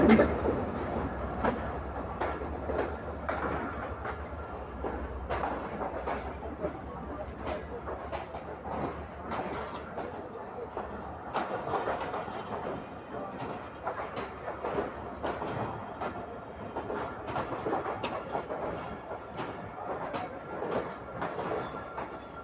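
A passenger train hauled by ZCU30 locomotive 6323 rolls into Multan Cantt station with continuous rumbling and rhythmic wheel clatter. Nearby and steady, the noise carries faint squeals throughout.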